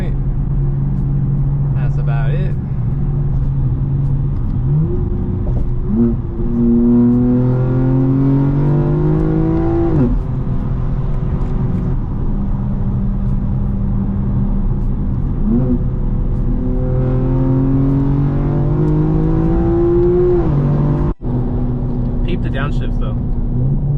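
A freshly tuned BMW M4 at a college rooftop meet revs repeatedly, its engine note climbing and falling in several long sweeps over a steady, loud burbling rumble, close by.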